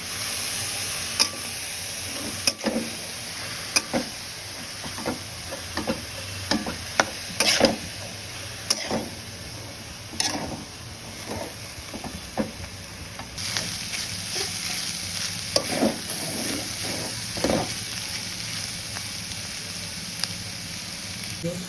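Potato fry stirred in a hot oiled pan sizzles steadily close by, with repeated scraping clacks of the spatula against the pan at an irregular rhythm.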